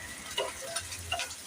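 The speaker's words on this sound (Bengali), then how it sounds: "দেখেন আমার শুটকি মাছটা কিন্তু ভাজা হয়ে গেছে।" Dried taki fish fry in a pan with a faint, steady sizzle broken by a few small crackling pops, heard close with no voices.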